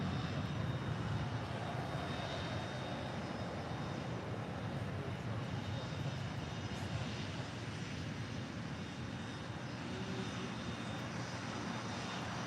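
An American Airlines Airbus A321 departing LAX for Orlando, a continuous broad roar of jet engines that holds steady and fairly loud, with no voices.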